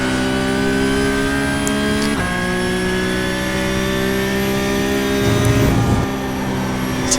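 Porsche Cup race car in the iRacing video game at Road America, accelerating down a straight: a loud, steady engine drone rising in pitch through gears, with a brief shift dip early on and a deeper surge near the end.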